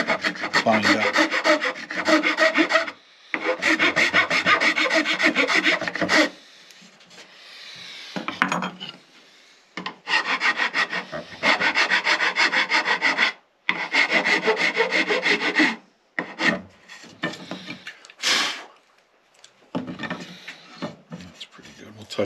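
Loud, close wood rasp shaping the neck of a wooden cigar box guitar, long rough back-and-forth scraping strokes in several bursts separated by short pauses.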